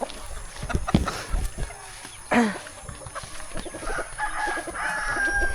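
Chickens on a farm clucking as they are fed, with a rooster crowing, scattered calls close by and some background noise.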